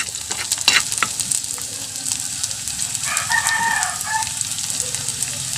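Spices sizzle and fry in oil in a pan, a close steady crackle stirred now and then, with a rooster crowing faintly in the background.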